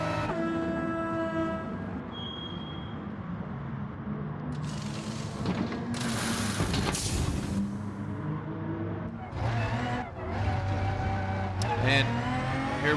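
Race car engines in a racing video game roar steadily as the cars leave the pits together, with a rising whine near the end. Someone talks over them.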